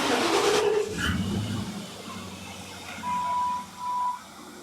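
A large engine in a 1968 Ford F100 pickup truck idles with a low, steady rumble, interrupted by two high electronic beeps near the end.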